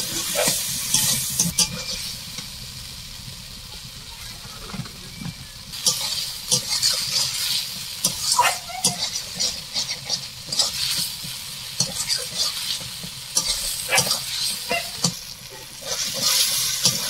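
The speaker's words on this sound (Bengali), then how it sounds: "এরপর আমি ভালো করে কষে নেব।" Spices and masala for chicken tadka stirred and fried in a pan, with repeated scraping strokes over a continuous close sizzle, some bursts louder than others, and no speech.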